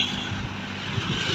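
Road traffic heard while cycling in the morning, a low continuous vehicle rumble and wind-like hiss, moderately loud and steady over the brief span.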